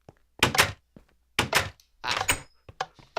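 Several heavy doors thunk open and shut in a video game gym and pet store, a series of loud, close knocks and swings in quick succession with short pauses between them.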